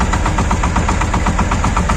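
Shifeng 240 mini tractor engine running while spraying wheat with micronutrient fertilizer, a loud, close, steady diesel chug with rapid regular pulsing and rattly vibration, no talking.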